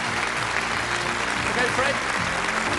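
Studio audience applause at a TV game show, a dense steady roar of clapping held at an even level throughout, with voices faintly mixed in underneath.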